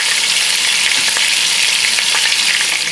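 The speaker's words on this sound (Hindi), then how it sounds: "बीच में जाएगा जो कि हमारे अनियन है, अदरक और लहसुन का पेस्ट, और इसको अच्छी तरह गोल्डन कर लें।" Onion with ginger-garlic paste sizzles steadily in hot oil, a loud, dense, continuous frying hiss with faint stirring clicks, close up and with no voices.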